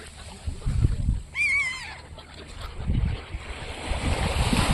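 Sea waves wash onto the shore beside a park, a steady low surf rumble rising and falling with wind noise across the microphone, and a brief bird cry in the middle.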